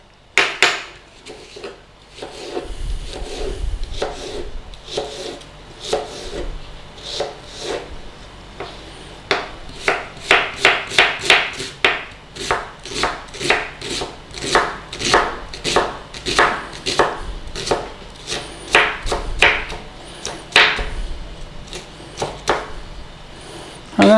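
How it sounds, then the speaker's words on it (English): An onion diced with a knife on a cutting board: rapid, regular chopping taps that speed up into a steady rhythm, close and crisp, with brief pauses between runs. "And that's our onion diced."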